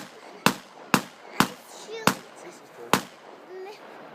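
A .22 rifle fires five sharp gunshots outdoors at irregular intervals. The shots are close and loud, with brief quiet stretches between them.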